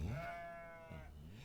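A single sheep gives a short, quiet bleat followed by a second fainter call, heard faintly in a calm setting.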